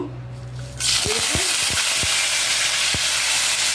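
Urad dal, mustard seeds and cumin hit hot oil and burst into a loud, sudden sizzle, with several sharp pops and spatters over the steady frying hiss.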